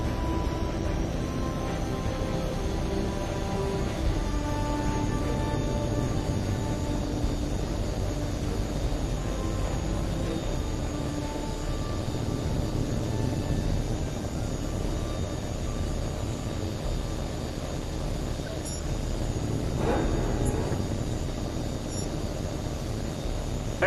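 A fighter jet taking off in the flight combat game Tom Clancy's H.A.W.X. 2, a steady loud engine roar that holds level for over twenty seconds without talking.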